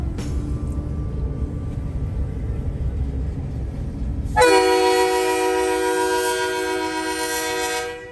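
Low rumbling of a passing train, then a loud, sustained horn blast that holds for several seconds before cutting off.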